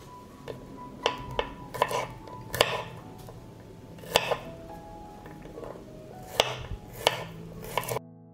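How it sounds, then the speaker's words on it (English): A knife chops six garlic cloves on a cutting board in a kitchen, irregular close knocks of blade on board scattered across several seconds. "I will chop 6 cloves of garlic."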